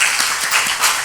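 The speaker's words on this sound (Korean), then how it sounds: "축하하는 의미로 박수 한번 하도록 하겠습니다" A church congregation claps in applause for an engaged couple during a Sunday morning service, a dense, steady wash of many hands sustained throughout, with no talk.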